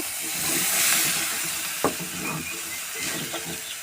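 Drumstick pieces sizzle loudly in a hot pan with a little water added, a steady hiss of steam, punctuated by a few sharp clinks of stirring.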